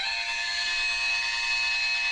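A steady, high-pitched steam whistle from a Hornby TT:120 model locomotive, triggered by an app, sounds continuously at even volume with a faint hiss underneath, never breaking off.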